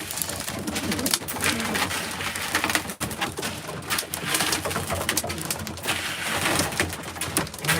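Several racing pigeons on eggs keep up a steady stream of close, overlapping throaty coos on a cold day, with a short knock partway through and no voices.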